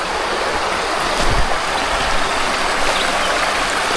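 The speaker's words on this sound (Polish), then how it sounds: "To nie jest zbyt ciekawe mały wodopadzik taki." Small jungle waterfall, a steady broadband rush of falling water that stays loud and close for the whole stretch, with no voices over it.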